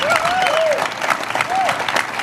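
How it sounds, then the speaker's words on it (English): An audience at the 10th Annual Cougar Cookout at Taft College applauds veterans with a steady wash of clapping, while a voice talks over it and whistles rise above the crowd. "Let's give those veterans a hand"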